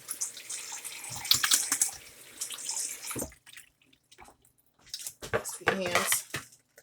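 Hands are washed under a running kitchen tap, with splashing water and light clinks from nearby dishes for a few seconds, then softer intermittent splashes and rinsing.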